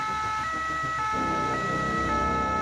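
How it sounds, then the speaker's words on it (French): A French SAMU ambulance siren wails steadily and loudly, its repeating tone heard close over passing road traffic rumble. "Une ambulance part dans la foulée."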